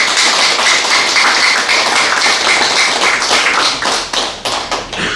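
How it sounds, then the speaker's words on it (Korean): An audience in a Seoul auditorium claps hands loudly and steadily during an academy event, a close, continuous patter of many palms that thins into scattered claps before stopping. "우리 박수 한번"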